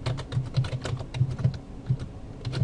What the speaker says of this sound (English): So we'll type that in